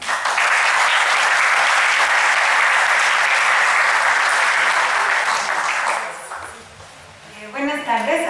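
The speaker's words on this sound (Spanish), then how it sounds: "Le damos un aplauso por favor a Nina." Audience applause for a speaker named Nina at a sustainable-societies colloquium, a dense, sustained wash of clapping lasting about six seconds before fading, then a voice begins speaking.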